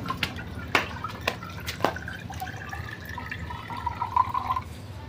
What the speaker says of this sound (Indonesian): saya akan coba tuangkan airnya dulu